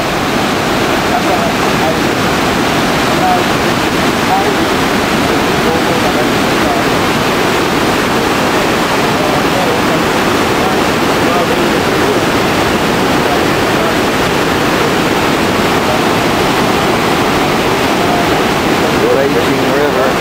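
Victoria Falls in Zimbabwe thunders at the first cataract, where the river rages below. A dense, unbroken roar of falling and churning water fills the whole stretch at constant loudness.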